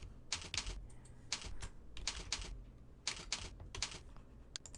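A date is typed on a computer keyboard at a point-of-sale cash register, with quick bursts of close, crisp key clicks separated by short pauses.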